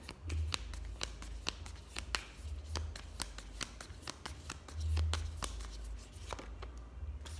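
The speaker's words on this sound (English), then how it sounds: "Let's get a clarifier for this Hermit" Tarot cards shuffled by hand at close range, with quick papery riffles and soft slaps repeating in bursts, alongside low rumbling handling noise and no talk.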